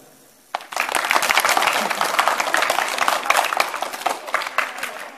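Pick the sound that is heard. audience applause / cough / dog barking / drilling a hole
audience applause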